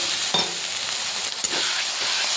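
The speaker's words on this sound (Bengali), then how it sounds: "কষতে কষতে অল্প অল্প করে জল দিয়ে করতে হবে।" Chicken masala sautéed with a little water hisses in a pan, a close, continuous sizzle with a few soft stirring scrapes and no talking.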